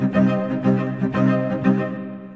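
Software strings and a bass instrument play rhythm patterns together in a steady pulsing groove of repeated chords with regular accents, ending in a fading tail.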